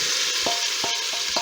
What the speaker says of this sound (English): I'm going to just saute the shrimp first to get that out of the way